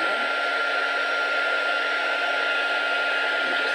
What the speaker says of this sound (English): And now I'm going to just warm up my heat tool.